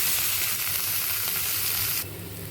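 Chopped tomato, tomato puree and spices fry over low heat in a pan for a breakfast dish, a steady close sizzle that drops in level near the end, with no talking.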